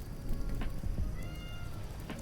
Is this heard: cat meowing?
yes